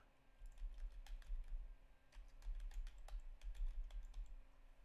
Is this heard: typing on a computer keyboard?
yes